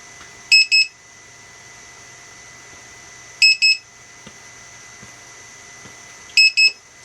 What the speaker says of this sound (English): it beeps continuously until you move the throttle again